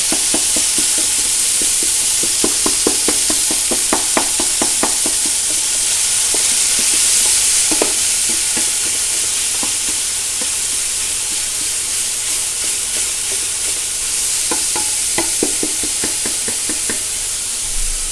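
An eggplant mapo mixture of ground meat and black bean sauce fries loudly in a pan under a constant hiss, with bursts of rapid tapping and scraping as a spatula breaks it up.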